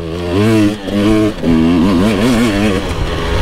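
Close, loud revs of an enduro motorcycle running a Coober ECU, rising and falling in short bursts with brief throttle lifts between pulls, the engine note wavering as it is ridden, with no voices.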